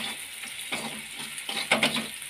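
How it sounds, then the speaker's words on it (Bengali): Onions fry in hot oil for a banana flower curry, a steady close sizzle broken by several scraping stirs, the loudest and busiest near the end. "পেঁয়াজটা দেখো ভাজা হয়ে গেছে"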